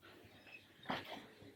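A small dog, a French Bulldog or Maltese, gives a faint, brief whimper indoors, one soft whine rising then fading in a quiet room.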